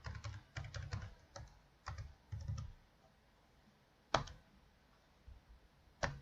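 Computer keyboard typing comes in quick close clusters of key clicks, with pauses between bursts and a couple of sharper isolated taps, recorded without talk.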